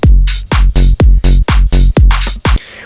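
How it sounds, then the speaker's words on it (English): A saturated tech house bassline from Ableton Live drives under a punchy four-on-the-floor kick, each thick distorted note pumping between beats in a loud, steady rhythm until it cuts off near the end. "Throw some mother fudging saturation on it."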